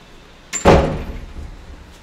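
A door slams shut indoors in a boarding house: one loud, close thud with a short fading ring-out, and no one speaks.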